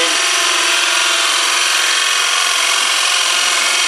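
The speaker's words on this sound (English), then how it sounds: "just drill the hole through here" A power drill bores a hole through wood for a greenhouse seed rack, a loud, steady, close whine held for several seconds without a break.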